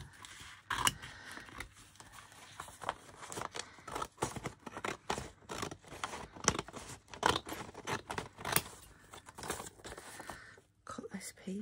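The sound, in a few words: scissors cutting paper for a collage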